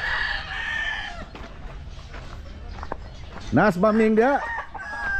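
Gamefowl bull stag roosters: one loud, close crow rises near the end after someone speaks over faint clucking and scattered footsteps in a yard.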